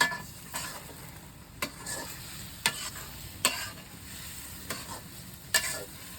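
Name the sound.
stirring garlic into chicken and pumpkin in a pan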